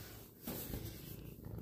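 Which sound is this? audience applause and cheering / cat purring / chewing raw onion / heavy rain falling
cat purring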